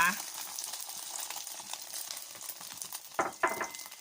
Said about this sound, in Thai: ตอนนี้ก็มาทอดไข่ก่อนนะคะ